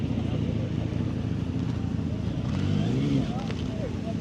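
A classic BSA motorcycle engine rumbles steadily at a crowded bike night among many old bikes, with a brief swell in loudness near the end, under a background of crowd chatter.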